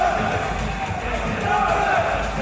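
Wrestling crowd at a Wrestlegate Pro event in Nottingham cheering and whooping in a steady, dense roar, with a commentator talking over it.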